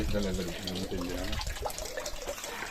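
Tap water running continuously into a basin outdoors in a valley, a steady splashing flow heard under overlapping voices.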